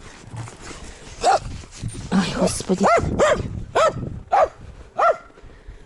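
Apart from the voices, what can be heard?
dog whimpering and barking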